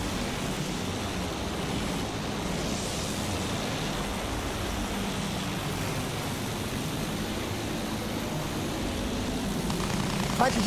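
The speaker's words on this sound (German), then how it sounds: "Flugzeug da oben! Feindliches Flugzeug, Jungs!" Enemy aircraft passing overhead in the World War I shooter Battlefield 1, a steady engine drone spread across the whole clip under dense battlefield noise, with no sharp rise or fade.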